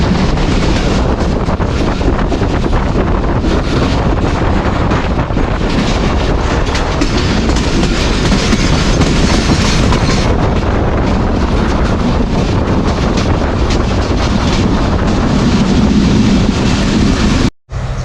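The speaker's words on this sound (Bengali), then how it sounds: "আমাদের ট্রেনটি এসে থামলো এই যে হিলি স্টেশনে" A passenger train pulling into Hili station near the Bangladesh–India border rumbles loudly and continuously, with rail clatter and heavy wind buffeting the microphone throughout.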